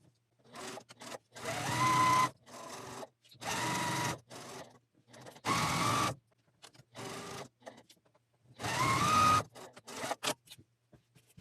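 A sewing machine stitches rows of a quilted placemat together with a quarter-inch seam, running in short, close bursts separated by pauses, about five runs in all.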